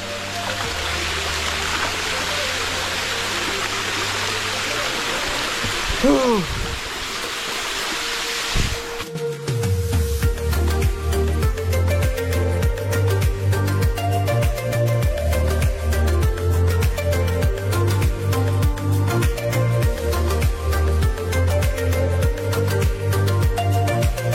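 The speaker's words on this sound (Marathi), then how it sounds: "आता पोहोचलो आहे तिथं एका पॉईंटवर जिथं मस्त आणि इथं बसून आपण एकदम धबधब्याची मजा घेऊ शकतो" Adai waterfall near Panvel pours steadily as a broad, constant rush of water for about nine seconds, then loud rhythmic music with a heavy beat takes over and largely masks it.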